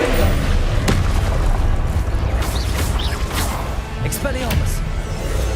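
Confringo blasting curse exploding in Hogwarts Legacy, a loud booming magical blast with crashing debris over continuous game noise, with a voice talking throughout.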